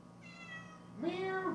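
Rosie the cat gives two meows close by: a thin, faint cry, then a louder, fuller meow over a quiet indoor background.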